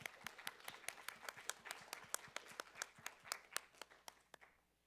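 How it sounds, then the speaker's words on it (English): An audience at a university student government meeting applauds, a thin, faint round of about twenty distinct claps in uneven rhythm that fades out after about five seconds. "Give a round of applause."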